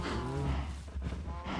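A herd of Minecraft cows moos in a dense, overlapping chorus, close and continuous, with no voices.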